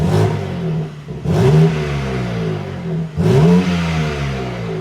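BMW M4 Competition, a 500+ bhp coupe, revving in normal mode: two sharp, loud blips rise and fall over a steady idle, close up with no talk.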